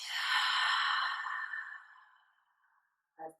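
A long audible exhale during a beginner yoga exercise, a breathy airy rush that starts strong and slowly fades over about two seconds, followed by a brief soft breath sound, close and alone.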